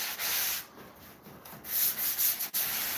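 The rough side of a sanding sponge rubs against wood in close, uneven scratchy strokes, pausing briefly between passes, with no voices.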